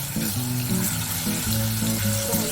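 Garlic fries in hot oil in a saucepan while cooking khao suey, a steady close sizzle with light crackling that runs under soft tonal background music.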